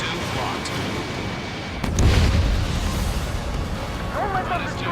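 Heavy bombardment of a harbor in the combat flight game Ace Combat 7, a deep booming explosion that thuds in midway through over a constant rumbling battle bed, with radio chatter around it.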